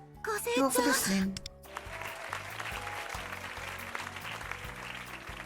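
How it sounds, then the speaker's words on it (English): Crowd applause in the game Persona 5 The Phantom X sets in after a short burst of sung or musical voice, then continues as steady, even clapping with a faint tonal hum underneath. "Now, one at the back had a weird clap."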